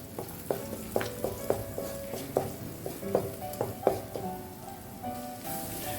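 Green chilies, ginger and garlic fry in oil in a pan for a Kerala-style fish molee, a soft steady sizzle broken by regular clinks of a stirring spoon against the pan.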